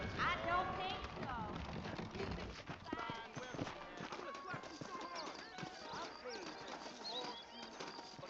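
Horses trot with a steady clip-clop of hooves in the Red Dead Redemption video game, the hoofbeats sitting under continuous talking voices and background sound.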